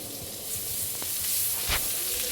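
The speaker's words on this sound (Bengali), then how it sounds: "এরপরে ছোট 1 কাপ পেঁয়াজ কুচি অ্যাড করে দিলাম।" A small cup of chopped onion fries in butter in a pan, giving a steady close sizzle with a few soft stirring scrapes and pops.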